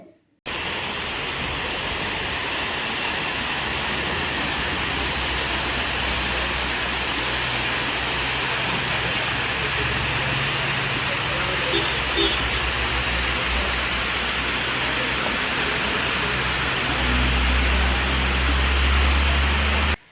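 A waterfall beside a road in Kerala, on the Nedumpoyil ghat route toward Wayanad, roars in a continuous broad rush of falling water, loud and close, with a faint low rumble late on.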